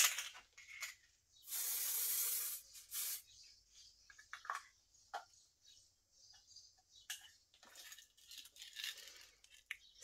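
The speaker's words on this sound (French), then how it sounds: "C'est adhésif spray. J'en ai un peu trop mis." A can of spray adhesive hisses in one steady burst lasting about a second, close and clear, while stencil crafting on foam board for scrapbooking goes on, followed by quiet scattered ticks and handling noises.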